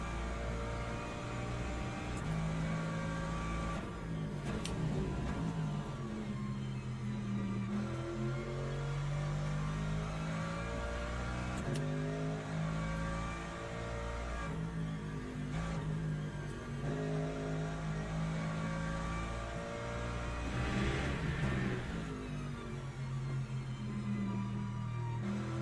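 Race cars in Le Mans Ultimate, including a Ford and a Lamborghini, roar continuously with layered engine drones rising and falling as they accelerate and shift, several cars blending together at steady loudness with no talk.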